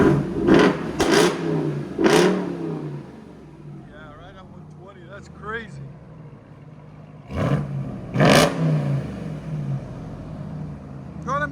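Ram TRX pickup with a Corsa Xtreme exhaust revving, three loud throttle blips early and two more near the end over a rumbling idle, with a quieter stretch and faint voices in between.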